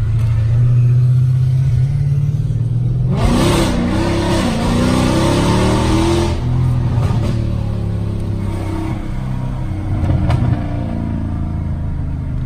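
Low Mercedes engine idle gives way to a loud roar as the car revs, the pitch climbing and wavering before settling into a rough, throaty rumble.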